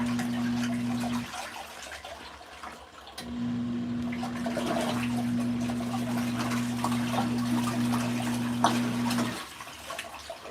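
LG ThinQ MEGA Ultimate washer on a light wash cycle, a steady low motor hum with sloshing, swishing water running through the drum, fairly quiet and close, no voices.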